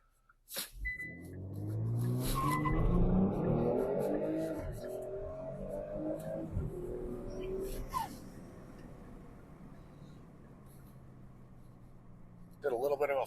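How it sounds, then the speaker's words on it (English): Kia Stinger GT2 with a LAP3 transmission control unit doing a four-wheel burnout launch from a stop: a loud engine surge and tire roar building over several seconds, then easing into a steady rumble as the car pulls away, with a brief burst near the end. "I did a four-wheel burnout right at the stop."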